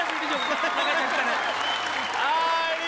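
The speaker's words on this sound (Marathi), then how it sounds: "जोरदार टाळ्या झाल्या पाहिजे सिद्धार्थ जाधव यांच्यासाठी." Studio audience applause on the Marathi comedy show Chala Hawa Yeu Dya, greeting actors Dharam Goyal and Siddharth Jadhav: steady, dense clapping throughout, with a host's voice carrying over it.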